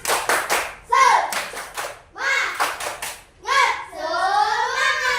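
A classroom of young children performing the tepuk semangat routine, tight rhythmic clap bursts in patterned groups interleaved with their loud chanted voices, ending in a drawn-out sung shout.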